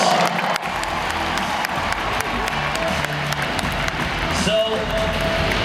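A rodeo arena crowd at a bull riding final applauds and cheers the bullfighters, a broad roar of clapping and voices filling the big venue, with an announcer's amplified voice and arena noise mixed in.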